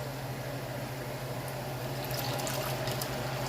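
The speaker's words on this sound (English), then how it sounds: "I'm going to add a half a can of French onion soup from Campbell's" Half a can of Campbell's French onion soup poured into a pan of cooking onions, a soft, steady liquid pour over a low hum and faint kitchen noise, with no talking.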